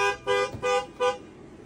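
A car horn honks three times in quick succession, each short toot close and loud with brief gaps between, and nothing else in the background.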